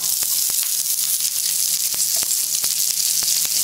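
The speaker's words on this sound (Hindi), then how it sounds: "अब मैं इसमें अनियन और कैप्सिकम डालूँगी।" Sliced onion and capsicum hitting a hot pan of chilli chicken, giving a loud, steady sizzle with occasional sharp crackles and spatters throughout.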